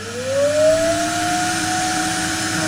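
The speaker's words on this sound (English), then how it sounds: "So we're going to use the old vacuum cleaner rather than drain the tank." An old vacuum cleaner drawing water from a leaking tank at a nut O-ring gives a steady, loud motor whine that climbs in pitch at the start and then holds, alone with no talk.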